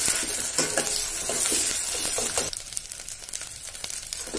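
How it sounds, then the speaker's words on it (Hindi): Onions sizzle in a hot pan with ginger and garlic while a spoon scrapes and stirs them in steady bursts, close by, with the frying hiss easing partway through and no talking. "प्याज को अच्छे से भून लेंगे हम।"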